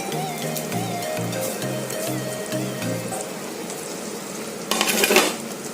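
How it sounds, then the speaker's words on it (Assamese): Spices and ground paste with bay leaves frying in a pan for an Assamese kas kolor dish, with metal utensils stirring and clinking against the pan amid a light sizzle, and a louder scraping burst near the end. "এতিয়া মই ইয়াত মছলাখিনি এড কৰাৰ পিছত এইখিনি মই ভালদৰে ভাজি লওঁ।"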